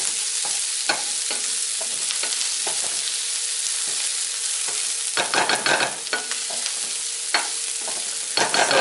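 Onions and garlic fry in a pan with a loud, steady sizzle, broken by repeated scraping stirs that come faster and louder toward the end.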